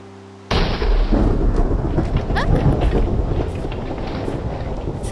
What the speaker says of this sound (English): We'll go inside and sleep, and then the storm should pass.